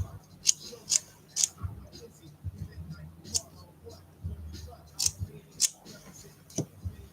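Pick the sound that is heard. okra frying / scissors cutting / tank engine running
scissors cutting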